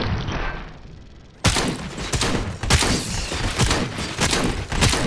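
Gunfire erupts in the Robocop: Rogue City video game, a dense, loud fusillade of rapid shots that starts abruptly after a quieter opening and continues in sustained bursts, close and harsh, with no speech.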